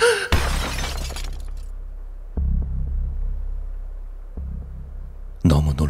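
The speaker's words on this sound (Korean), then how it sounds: "너무 놀란 난 항아리를 떨어뜨렸다." A clay jar crashes and shatters in a sharp burst at the start, followed by a low rumbling thunder-like drone that swells twice, as a dramatic sound effect with no voices over it.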